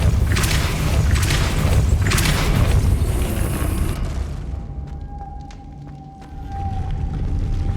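A Depulso spell cast in Hogwarts Legacy, a loud booming magical burst with a heavy low thud over the game's ambient sound, followed by a sustained ringing tone as the effect fades.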